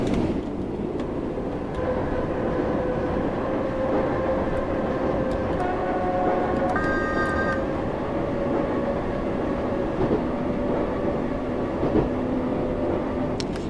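A Class 484 electric train on the Isle of Wight line in Train Sim World 2 rolls with a steady loud rumble, its third-rail pickup contact giving sustained tonal whines and brief higher squeals over the constant running noise.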